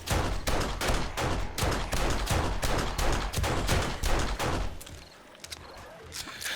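Rapid gunfire in the zombie-survival game 7 Days to Die comes as a steady burst of loud, evenly spaced shots. After about five seconds the firing stops and only quieter ambient game sounds remain.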